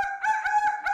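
A person imitates a rooster crowing, a loud, close, sustained nasal call with wavering pitch lasting about a second, alone without other talk.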